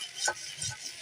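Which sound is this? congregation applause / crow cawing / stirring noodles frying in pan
stirring noodles frying in pan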